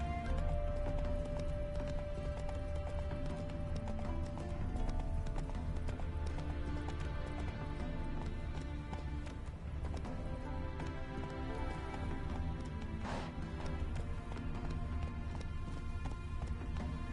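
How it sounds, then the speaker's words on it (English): Horse hooves clip-clop steadily through a long stretch while riding in The Witcher video game, with an occasional whinny amid a dense, busy ambient game soundscape. "Whoa there, Roach."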